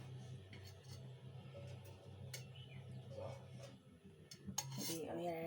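Oil spooned into a pan for masala idli, with soft metal clinks of a spoon against cookware, a few light taps spread across the span, fairly faint and close.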